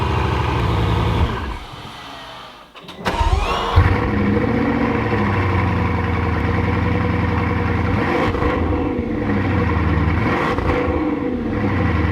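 A Bugatti Chiron's engine starts with a brief churn after the previous idle fades, then catches and holds a loud, deep idle close by, followed by a couple of swelling revs.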